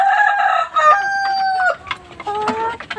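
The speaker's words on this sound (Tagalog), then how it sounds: "ito yung kapatid ng dalawang manok natin kanina" Malaysian Brazilian breed chickens crow and cluck up close, a long sustained rooster crow followed by another crow and scattered clucks, loud and alone with no talk.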